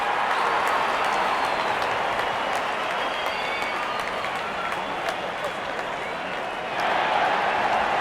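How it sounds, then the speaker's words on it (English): A cricket crowd at an India versus Pakistan match applauding a batsman's fifty, a loud, sustained wash of clapping and cheering from a large stadium, rising again at the end. "Now that's a good 50. It will be appreciated by the crowd."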